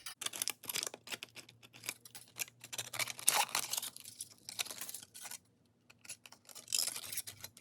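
Scissors snipping through foil to cut out a circular flower center for a recycled craft, a run of quick close crinkly cuts with short pauses in between.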